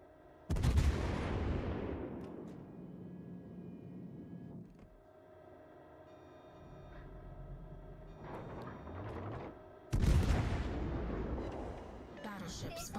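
Naval gunfire from battleship guns in a video game, aimed at the ship Helena: two loud, booming salvos several seconds apart, each decaying in a long rumble, with quieter distant shots between.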